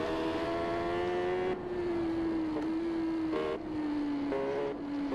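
A car engine drones steadily in the TT Isle of Man 3 video game, a loud, close whine that holds its pitch through shifts and dips slightly at each gear change.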